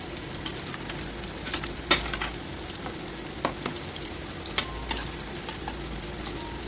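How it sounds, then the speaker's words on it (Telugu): Sweet stuffed palamunjalu dumplings fry in hot oil with a steady dense sizzle, while a spoon or ladle stirs them, giving occasional sharp clinks and scrapes against the pan; no voices. "ఇలా మొత్తం వేయించుకోండి నిదానంగా"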